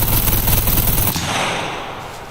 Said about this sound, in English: I'm gonna shoot it with the Mac 10, see how much damage I do to it